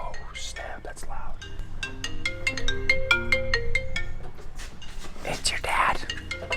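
A phone ringtone plays a repeating melodic tune for several seconds, with quiet whispering and faint clinks underneath.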